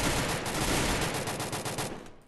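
Rapid automatic gunfire from a Bizon submachine gun in the Free Fire battle royale game, a dense, loud burst of repeated shots firing continuously for about two seconds before cutting off.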